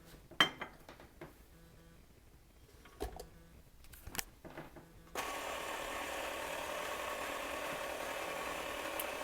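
An electric stand mixer starts up partway through, beating cooled sugar syrup for bee fondant in a mixing bowl, a steady loud whir that follows a few clinks and knocks of handling.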